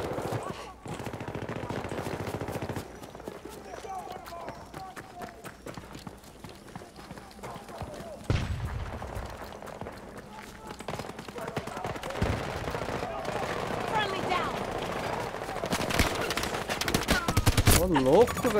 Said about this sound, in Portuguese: Quem tá atirando aqui no cara?